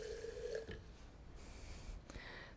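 Water trickles from a tap into a glass jar of leftover pasta sauce, making a brief gurgling pour at the start, followed by faint drips and small clinks in a quiet kitchen.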